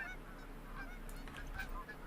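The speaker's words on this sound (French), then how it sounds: "on a les petites bernacles qui sont là dans le fond. On les entend piailler." Barnacle geese honk and squeak from the background of a hunting video game, a few faint scattered calls over a low steady hum, with no voices.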